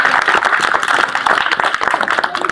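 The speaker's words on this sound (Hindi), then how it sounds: "सब लोग ताली बजा के भोले बाबा का" Audience clapping at a street magic show with a snake act, dense and steady applause from a crowd throughout, close and loud.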